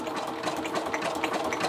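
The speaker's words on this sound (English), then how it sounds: "I go over and I'll do my zigzag stitch and set that." A sewing machine runs a zigzag stitch across a birthday scrapbook page. It gives a steady, continuous, close mechanical whirring hum with a fast rhythmic chatter throughout.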